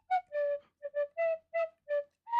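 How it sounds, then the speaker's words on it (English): A tin whistle plays a short bright melody of about eight clear, separate notes, close and alone. "Ah, yes. The tin whistle."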